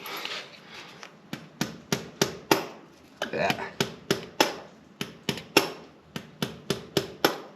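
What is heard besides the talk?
hammer tapping on a John Deere tractor wheel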